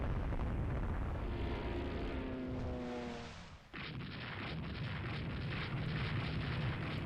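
Naval shell explosions from enemy battle cruisers in the Rule the Waves 3 naval strategy game, a loud continuous rumbling roar with a descending tone, then a sharp cut to a harsh, broad blast texture that keeps rolling.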